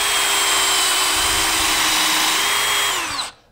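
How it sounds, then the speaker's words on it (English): A power drill bores a countersink hole into a wooden bookcase shelf, running as a steady, loud whine for about three seconds before it winds down and stops. "We're going to put a countersink hole here."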